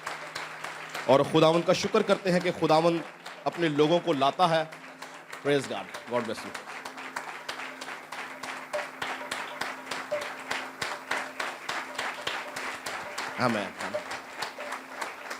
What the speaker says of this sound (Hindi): हम उनको और उनकी पूरी टीम को ज़ोरदार तालियों से वेलकम करेंगे